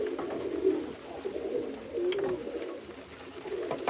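Pigeons cooing close by, a continuous soft, throaty burble of overlapping coos that rises and falls without pause and with no talk over it.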